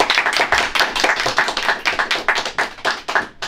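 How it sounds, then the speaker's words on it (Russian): An audience at a wrestling quiz show claps together in a dense, steady burst of many hands, loud and close, with no voices over it. "Похлопаем."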